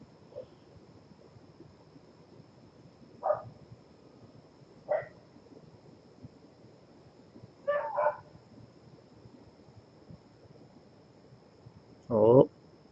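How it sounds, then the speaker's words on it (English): A dog barks in short, separate bursts spread across several seconds, with a doubled bark midway and a louder final bark. The barks are moderately close over a quiet background hum. "I wonder what makes him finally decide to stop barking."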